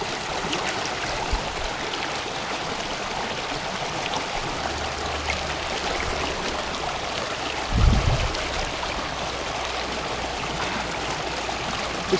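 Clear mountain water flows steadily in a stream on the way up Helvellyn, a constant rushing, bubbling wash close by, with a brief thud partway through.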